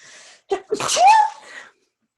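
A single close sneeze, a sharp inhaled catch followed by a loud burst, then quiet.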